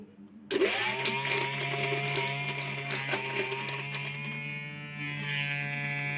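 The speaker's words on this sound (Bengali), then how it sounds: "তো এবার তোমাদের সাথে পেঁয়াজ কেটে দেখাবো, এই সামনে পেঁয়াজ কেটে দেখাবো।" A homemade mixer grinder built from a DC motor starts abruptly and runs at a steady high whine while chopping onion, with a loud continuous motor drone and rattling blade noise throughout.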